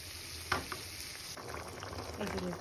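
Fried potatoes and fried fish stir in a spiced masala, giving a close, low sizzle with scraping and clinking stirs, fairly quiet, while a voice talks softly in the background.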